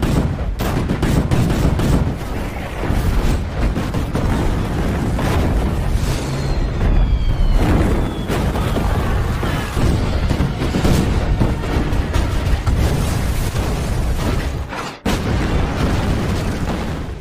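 A film battle scene is filled with dense explosions and rapid gunfire: loud booms and crackling bursts overlap almost continuously, with a brief drop near the end before the barrage resumes.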